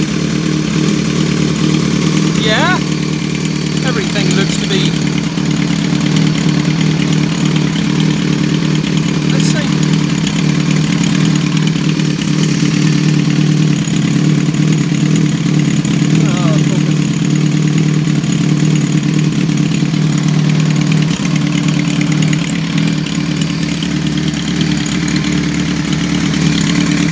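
A 2005 Kawasaki ZRX 1200R motorcycle with TMR-MJN carburetors idles steadily after its first start, a loud, continuous low engine drone close by, with faint voices in the background.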